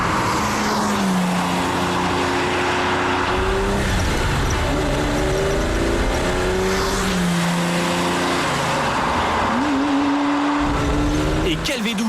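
Ferrari Daytona V12 engine rising and falling through the gears in a loud, close roar with shifting pitch, someone talking over it.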